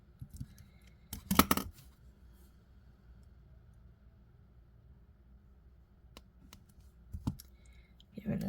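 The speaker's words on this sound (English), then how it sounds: "Snip this off and back. There. We're going to snip it off." Scissors snip bead-stringing wire in a few short, sharp cuts, one clear burst early and fainter snips later, in an otherwise quiet room.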